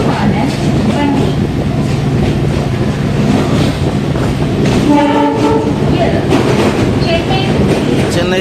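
A Chennai suburban local electric train runs with a loud, continuous rumble and rattle of carriages heard from on board, a horn sounding midway and again near the end, and people talking underneath.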